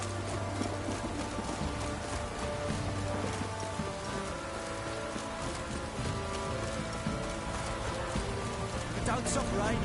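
Steady rain in The Witcher 3 patters continuously on surfaces, dense and even throughout, with game music and ambient tones underneath, and a louder patch near the end.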